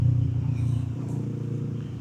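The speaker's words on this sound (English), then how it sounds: "Wow, that's a big truck for this road." A big truck passing on a narrow country road, heard from a small motorcycle as a steady low engine rumble that stays loud and close for the whole stretch, with no talk over it.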